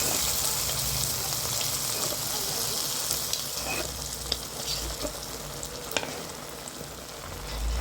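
Fried shrimp goes into a pan of cooking pui greens, giving a continuous, close sizzle with wet gushing, stirring scrapes and several sharp clacks of a utensil against the pan.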